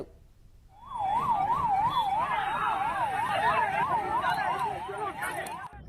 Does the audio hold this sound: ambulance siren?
yes